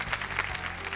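An audience claps to welcome an investor onto the stage at a televised startup pitch show, a steady, dense wash of applause filling the short moment with a faint voice underneath.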